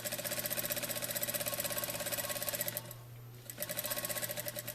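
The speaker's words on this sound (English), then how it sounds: "sew up the second side of the pillow" A sewing machine stitches the side of a throw pillow, running with a fast, even mechanical chatter up close, pausing briefly, then starting again.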